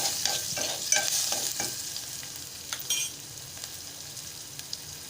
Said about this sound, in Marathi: बारीक चिरून घेतलेला कांदा आणि चार लसणीच्या पाकळ्या मी फोडणीला घातल्या आहेत आता मिश्रण एकजीव करून घेते